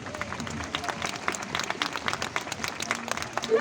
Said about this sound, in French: je pense qu'on peut applaudir notre phoque du jour